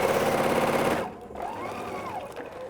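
A sewing machine stitches fabric with a fast, even mechanical chatter of rapid needle strokes for about a second, then stops, leaving quieter handling noises.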